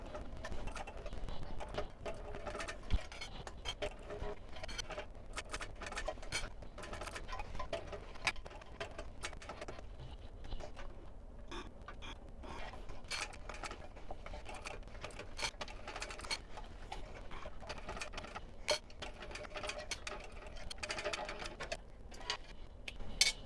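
A sewing machine top stitches a tote bag with a rapid, steady ticking patter running continuously at close range, quiet and unbroken, with no talk.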